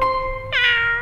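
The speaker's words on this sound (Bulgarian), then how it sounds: "Котка." A black pet cat lets out one clear, close meow that rises halfway through and holds steadily to the end, with no talking.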